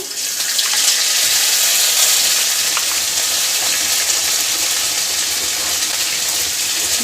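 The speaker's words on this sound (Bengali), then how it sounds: "এবার দিচ্ছি নারিকেল বাটা," Coconut paste sizzles in a hot frying pan, a loud steady bright hiss with small crackles running throughout, without any speech.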